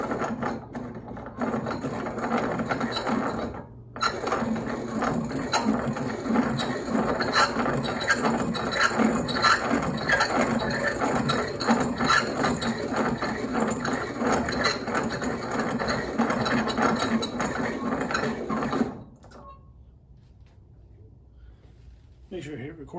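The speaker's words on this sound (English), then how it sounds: "I'm going to make sure I'm square to the grinding wheel" A grinding wheel works piston rings for an 89ci stroker build on a 1993 Harley FXR, giving a steady, loud mechanical whirring and rattling grind that runs almost continuously, briefly dipping once, then cutting off near the end.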